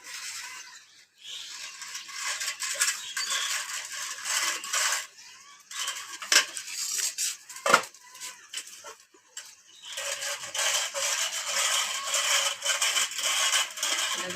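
Cooked food is mashed in a pot with a ghutni, a hand masher, in a series of close rasping, scraping strokes broken by short pauses and a few sharper knocks.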